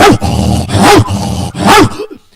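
A man imitates a barking dog, giving three loud, close, voiced barks with a growly edge and short gaps between them, then the sound falls away.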